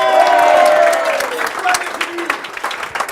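Audience applauding in a hall at a speech event, loud sustained clapping that slowly thins into scattered claps over about three seconds, with a voice speaking briefly at the start.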